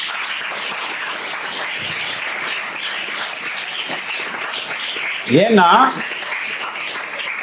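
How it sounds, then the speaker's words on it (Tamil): An audience at a school civil-services awareness event claps, a steady broad wash of applause running throughout beneath someone speaking over it, with a brief louder vocal burst near the end. "கைத்தட்டலாம் இதுக்கு."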